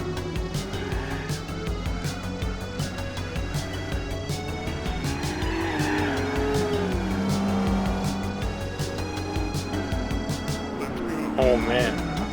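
Buick Special race car in Gran Turismo 4 with a droning engine, rising and falling revs and a tonal tire squeal under braking midway, while someone talks over it throughout.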